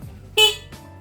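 The horn of a Yamaha F1ZR motorcycle gives one short, bright electric beep, followed by a fainter second blip, close up in a quiet workshop.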